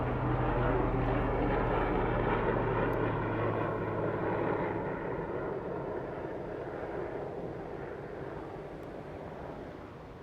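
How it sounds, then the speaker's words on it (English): Aircraft drone overhead with a rotor-like low throb that fades gradually as it moves away, loud and steady at first and alone without voices. "Helicopter."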